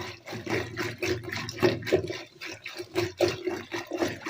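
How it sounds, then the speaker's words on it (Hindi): Boiled and cooled milk poured into a mixture for lassi, giving an uneven gurgling, splashing stream that swells and eases in pulses, close and moderately loud. "हमने दूध डालना है। दूध भी बॉयल हुआ हुआ।"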